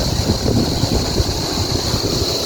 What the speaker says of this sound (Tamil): இயற்கையாகவே ஒரு காற்று அடிக்குது, காற்று சத்தம் அடிக்குது